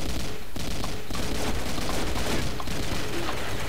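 Bursts of the M21E rifle firing in Combat Arms, loud and dense, with rapid shots that run almost unbroken and small dips between bursts.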